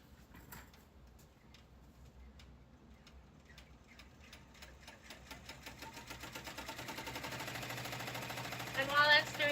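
A sewing machine stitches a tack-down stitch on an event bag, beginning with slow separate clicks that speed into a steady rapid mechanical hum and chatter, growing louder toward the end.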